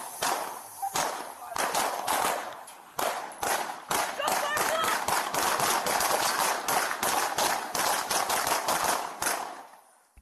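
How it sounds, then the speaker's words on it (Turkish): Police open fire on a street in a rapid volley of many gunshots, sharp cracks coming in quick bursts with brief gaps, loud and close before tapering off. "İrkilen dört polis defalarca tetiğe bastı."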